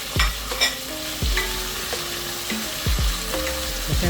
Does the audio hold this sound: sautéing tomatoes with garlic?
yes